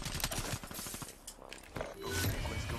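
Gunfire in Call of Duty: Black Ops 3 multiplayer, a rapid burst of shots crackling loudly and close for about the first second, then scattered shots and game effects continuing underneath a voice.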